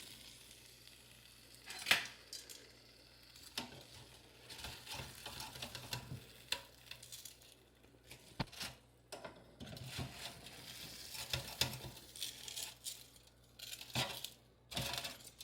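Corn flake crusted chicken breasts being flipped in a metal air fryer basket, with scattered clanks, taps and scrapes of tongs and a faint crackle over roughly fifteen seconds, no talk.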